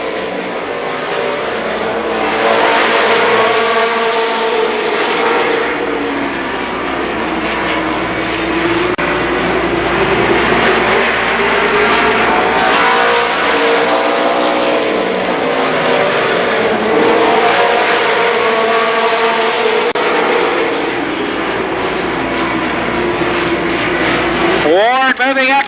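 Super late model stock cars racing around Columbus Motor Speedway, one running on a deflating right front tire; loud engines roar and sweep past in repeated waves, an announcer talking over them.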